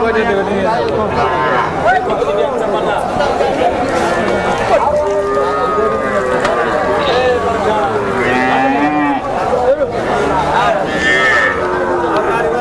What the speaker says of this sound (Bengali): দুধের গরু